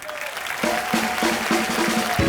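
Studio audience applause on a TV comedy talk show, a broad, steady wash of many hands clapping with a crowd murmur underneath, while a voice or tonal sounds come through in short repeated bursts over it.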